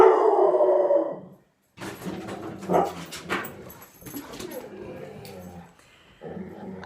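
A dog barks and howls close by, a drawn-out howl at first, then a run of whimpering yelps and barks.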